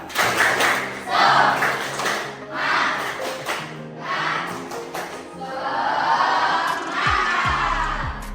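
Schoolchildren in a morning class perform a rhythmic spirit clap together, a loud burst of patterned group claps mixed with crowd voices that runs through the whole stretch.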